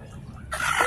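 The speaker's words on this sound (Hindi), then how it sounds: "माशाल्लाह से एक्टिव मुर्गियाँ हैं सारी, बड़ी मुर्गियाँ हैं माशाल्लाह से।" Chickens at Lalukhet bird market: a single short, close cluck breaks out over the low market bustle in the final moments.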